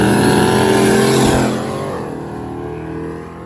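Gray S10 drag racing truck with a large top-mounted intercooler blasting past in a loud, close engine roar that peaks early and then fades as it pulls away down the strip.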